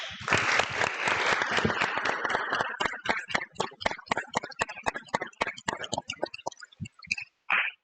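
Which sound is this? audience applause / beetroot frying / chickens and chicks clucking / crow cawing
audience applause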